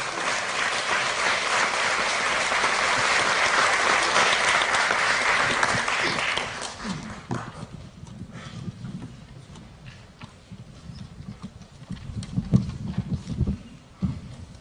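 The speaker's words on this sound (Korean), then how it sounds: "여러분, 한상진 교수님을 큰 박수로 환영해 주십시오" A lecture audience in Seoul applauds to welcome a sociology professor. Loud, dense clapping lasts about six seconds, then gives way to quieter room noise, a few scattered claps and shuffling handling sounds.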